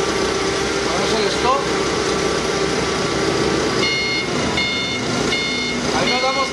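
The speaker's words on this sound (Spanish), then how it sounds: "Ahí nos damos que la luz y alarma de reversa sí funciona." Reversing alarm on an LTMG FG25 dual gasoline/LP sit-down forklift, sounding in four evenly spaced high beeps near the end over a steady engine and background hum.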